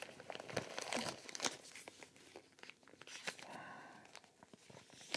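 Plastic packaging from an Amazon parcel crinkles and tears as it is opened, close and busy with irregular crackles and rustles throughout.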